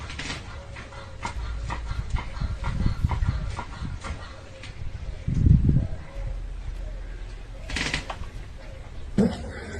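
A rescued puppy pulled from water in the Kherson region, injured with a broken paw, gives faint whimpers among rustling and handling noises, with a few sharper bumps and movements near the end.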